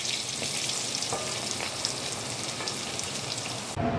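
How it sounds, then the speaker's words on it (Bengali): Hot oil sizzles steadily and loudly as potatoes fry in a wok, with a few faint scrapes, then the sound shifts abruptly at the very end. "এরপরে আমি কড়াইতে দিয়ে দিচ্ছি আলুগুলোকে আমি এবার ভেজে নিচ্ছি।"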